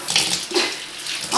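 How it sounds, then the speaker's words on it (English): Water poured over the roots of a potted orchid, a continuous close splashing and gurgling wash with no talk. "So now what we're gonna do is basically actually water the root area."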